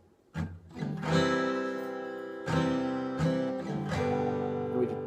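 Close acoustic guitar strumming of chords: ringing chords struck in a steady down-and-up pattern, with several clear strokes and sustained notes, with no talk over them.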